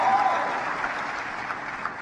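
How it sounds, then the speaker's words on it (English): Crowd applause fills an opening ceremony of the YouthConnekt Africa Summit honouring host nation Kenya, a steady dense wash of clapping sustained throughout at moderate loudness. "A round of applause for Kenya that hosted YouthConnekt Africa"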